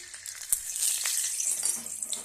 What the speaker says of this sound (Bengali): এক চামচ মতো চিনি দিয়ে দিলাম তেলে কালারটা যাতে ভালো আসে